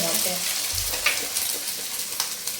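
Eggs fry in a hot pan for a street-style chicken fried rice, giving a steady, close hiss and sizzle with a few light scraping stirs.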